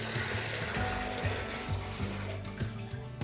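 Tap water pours steadily into a container, around 70 degrees and likely from an RO system, a continuous rushing stream with a low rhythmic tonal pulsing underneath throughout, no voices.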